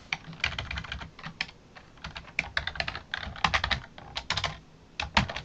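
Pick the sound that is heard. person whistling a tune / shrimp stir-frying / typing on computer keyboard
typing on computer keyboard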